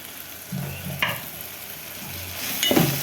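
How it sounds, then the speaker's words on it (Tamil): Onion and tomato sautéing in a pan for mushroom biryani, a continuous close sizzle with a few spatula scrapes and clinks against the metal, no voices. "வெங்காயம் தக்காளி நல்லா வதங்குற வரையில் வெயிட் பண்ணும் சார்"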